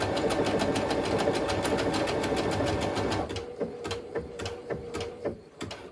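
A sewing machine sews custom stitches in a fast, even mechanical chatter, then shifts to slower, spaced clicks and thumps as it stitches in place, with no talking.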